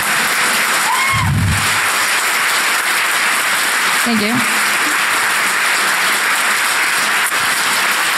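An audience claps at the close of a DEF CON 21 conference talk on suicide risk assessment, with steady broadband applause running through the clip while the speaker briefly talks over it.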